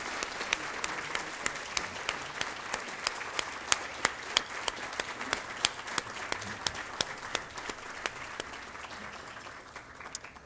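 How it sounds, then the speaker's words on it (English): Audience at the Dr. John W. Rice Diversity and Equity Awards ceremony for the California Community Colleges gives sustained, even applause, a dense hall-filling patter of many hands that fades slightly at the close. "Let's give them a round of applause for their dedication and commitment to the California Community Colleges."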